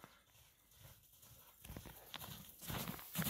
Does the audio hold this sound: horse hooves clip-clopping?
yes